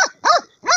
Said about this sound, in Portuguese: Cachorro preto. Olha o cachorro ali.